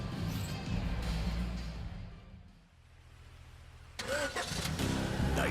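Maibatsu Thunder car engine cranking and catching in a GTA radio ad, a loud close start that dips briefly, then revs back up strongly, heard alone without talk.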